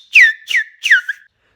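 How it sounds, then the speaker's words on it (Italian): Lip whistling without fingers, three short bright whistled notes in a row, each sliding downward in pitch, clear and close with silence between and after. "Questo è il metodo del fischia delle labbra"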